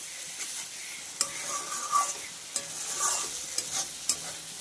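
Spice paste for a Bombay duck (lote fish) curry stir-frying in a pan, a steady hiss of sizzling broken by sharp scraping clicks of a spatula stirring at irregular intervals, close and moderately loud with no talking.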